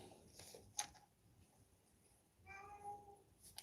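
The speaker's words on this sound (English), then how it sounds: "My old cat is just a bit peeved because I wasn't giving her the attention she wanted." An old domestic cat meows a few times indoors, short faint calls with one drawn-out, tonal meow near the end, heard alone without talking.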